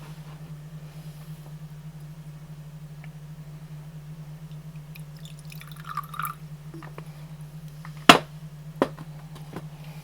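A watercolour rigger or liner detail brush is dipped and rinsed in a jar of water, giving faint small drips and swishes, then a sharp tap and a couple of lighter knocks near the end, over a steady low electrical hum.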